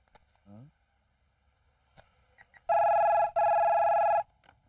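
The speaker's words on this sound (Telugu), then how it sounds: "అయ్యా ఫోన్ అయ్యా." A telephone rings in two loud electronic bursts, each a bright sustained tone, in an otherwise quiet room with a few faint knocks before it.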